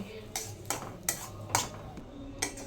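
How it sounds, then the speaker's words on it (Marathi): A spoon stirs cashews and almonds into oats roasting in ghee in a pan, giving five sharp scraping clinks spaced about half a second apart over a low background hum. "त्याच्यामध्ये मी काजू बदाम टाकते. ते मिक्स करून घेते."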